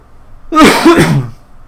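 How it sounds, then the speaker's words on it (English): A single forced, strained cough bursts out close to the mic, a short harsh throaty sound lasting under a second in an otherwise quiet room, with no talking. "Joys of when the cough doesn't exactly want to happen."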